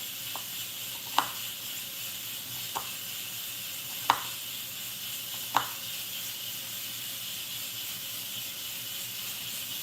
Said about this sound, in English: you can hear my pressure cooker building up the pressure